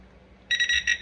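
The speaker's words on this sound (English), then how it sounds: "pour it as much as you need to pour until you hear the beep" Near silence as liquid is poured, then a sudden run of rapid electronic beeps from a liquid level beeper, bright and fairly loud, pulsing quickly until the clip ends.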